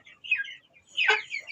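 Kuchinsky chickens making soft, brief clucking calls, a faint first cry followed by a stronger squawk, close by with little else around.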